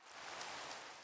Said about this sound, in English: Oh, I love that starting to rain